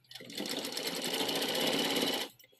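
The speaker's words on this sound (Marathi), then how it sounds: "त्याच मापावर डबल टिप टाकायची" A sewing machine stitches a blouse seam in one steady continuous run of about two seconds, close and fairly loud, with no talk over it.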